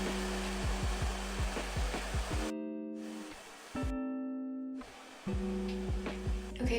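A hair dryer fitted with a diffuser runs on full setting without heat, drying curly hair with a steady loud whir that cuts out twice briefly, with rhythmic thumping handling noises over the drone.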